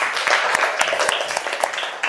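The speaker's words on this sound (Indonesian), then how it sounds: "kasih tepuk tangan untuk kita semuanya" Schoolchildren in a classroom clapping together, an uneven flurry of hands at moderate loudness with a few sharper claps standing out and faint voices mixed in.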